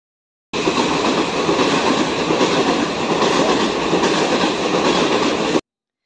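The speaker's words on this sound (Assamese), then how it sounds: "আহি পালোঁ হিল ষ্টেচন, আৰু ষ্টেচনৰ নাজাৰাটো অকণমান আপোনালোকক দেখাই দিব লাগিব।" A train at a hill railway station gives a loud, steady rolling rumble with rail clatter for about five seconds, close by and with no voices.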